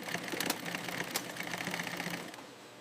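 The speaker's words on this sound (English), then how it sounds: "Insole stitching process. Last insole stitching process." A factory sewing machine stitching a leather shoe insole, a fast, close mechanical rattle of needle strokes running continuously before easing off at the end.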